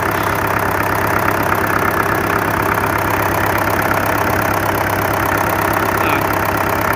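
An MTZ 80 tractor's diesel engine idles evenly in freezing weather, a loud, unbroken mechanical chug heard close by for several seconds with no voices.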